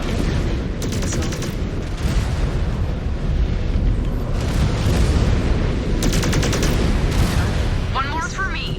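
Incoming missile strikes and gunfire in the MechWarrior 5: Clans video game, a dense continuous roar of explosions with rapid bursts of shots, loud and steady throughout, with brief synthetic electronic chirps near the end.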